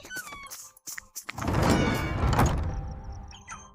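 A haunted mansion door creaks open with a long, drawn-out groan that swells and then fades, preceded by a few light knocks and clicks.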